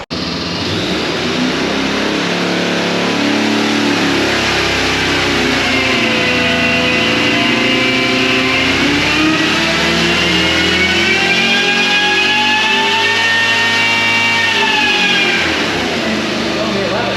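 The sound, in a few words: big block engine revving on dyno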